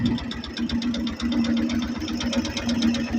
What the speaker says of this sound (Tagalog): Ayan, may maririnig kayo mga paps na tagiktik ko.